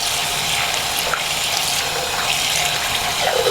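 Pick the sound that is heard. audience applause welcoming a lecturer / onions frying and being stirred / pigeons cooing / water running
water running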